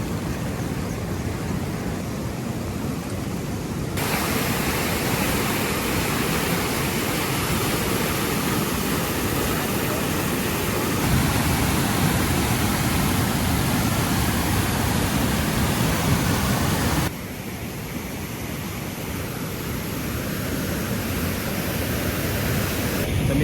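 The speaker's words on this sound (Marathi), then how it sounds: "तुम्ही बघू शकता हा ओढा की जोरदार पूर आलेला आहे" A stream swollen by heavy monsoon rain rushes past in flood, a loud, steady broadband roar of churning water that holds close and constant the whole time, shifting only slightly in tone partway through.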